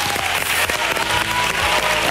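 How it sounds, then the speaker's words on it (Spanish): Studio audience on a Spanish television fan show bursting into loud, dense applause, sustained and close throughout. "os merecéis este fortísimo aplauso para vosotros"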